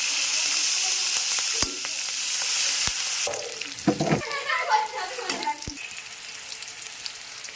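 Onions and chillies hit hot oil left over from frying fish, giving a loud sustained sizzle that turns into crackling, spitting bursts midway, with a few sharp utensil knocks and no talk.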